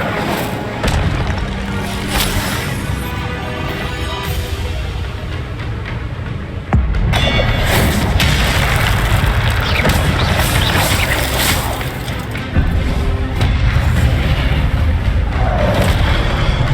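Repeated Incendio fire spell blasts from the video game Hogwarts Legacy, loud booming roars that run continuously, with fresh surges around the middle and near the end.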